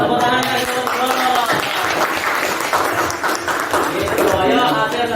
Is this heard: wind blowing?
no